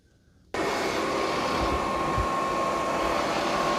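An ECOVACS DEEBOT N10 PLUS robot vacuum starts up in vacuum-only mode, jumping from near silence into a loud, steady whooshing motor and suction roar with a constant whine that continues alone.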